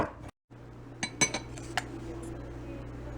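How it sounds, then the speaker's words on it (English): Slightly unripe blackberries mashed in a dish, heard as a few scattered clinks and scrapes of a utensil against the dish over a low steady background hum, with a brief silent gap near the start. "is to mash these blackberries"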